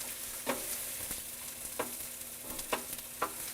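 Onion frying in a pan sizzles with a steady, moderate hiss, broken by several sharp scrapes and clicks as it is stirred, with no talking.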